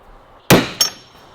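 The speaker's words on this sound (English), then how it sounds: "then just bash a pin down in it" Two sharp metallic hammer blows driving a pin into a door hinge of a 1934 Austin 10, a loud strike followed by a second a moment later, each ringing briefly in a quiet workshop.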